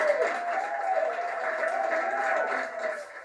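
Clapping in a hospital as the first COVID vaccine doses are given, December 2020; continuous moderate applause from a group, steady with a faint sustained tone running underneath.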